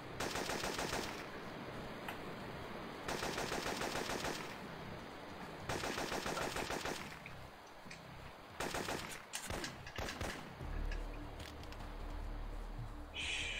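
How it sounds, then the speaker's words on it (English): Gunfire in the video game Syphon Filter 2: loud bursts of rapid automatic fire in several long stretches, separated by short gaps, with a few scattered single shots toward the end. "someone's shooting at me"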